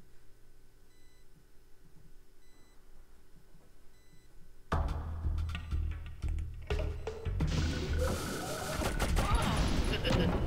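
Slig gunfire in Oddworld: Abe's Exoddus breaks out as rapid bursts of game shots and crashes over electronic beeps and ambience, while a player talks excitedly over the action.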